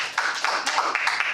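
A small group clapping at a Toastmasters meeting, a brief burst of close, bright handclaps lasting just over a second.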